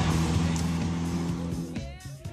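A Ferrari 308 rally car, a 1983 Italian rally champion and Sanremo winner, driving at a classic car tour event: a steady engine rumble rising and falling through gear changes, moderately close, ending with a brief lift-off.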